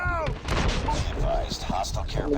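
Explosion in a Call of Duty-style shooter game, a loud blast with crackling gunfire-like bursts over a steady game soundscape, close and dense throughout.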